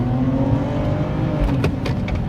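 A BMW 5 Series petrol engine revs up in first gear, a loud steady rising engine drone heard from inside the car, with no talk.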